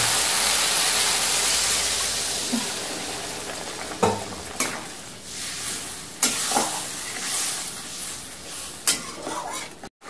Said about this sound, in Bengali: এবার এটাকে ভালো করে নাড়িয়ে চাড়িয়ে নেব। তারপর এর মধ্যে দিয়ে দেবো পরিমাণ মতো জল।